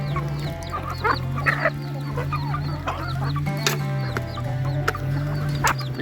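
Chickens cluck repeatedly on a rural farm, several birds close by with short irregular bursts over a steady low hum, no talk.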